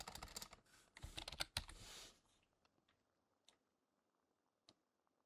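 Typing on a computer keyboard: a fast, busy run of close key clicks for about two seconds, then a few sparse, fainter taps in near silence.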